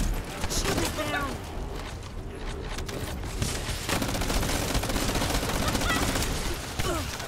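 Dense, sustained gunfire from The First Descendant, an Invasion mission in the video game, with rapid shots running through the whole stretch over continuous battle effects and a voice talking over it.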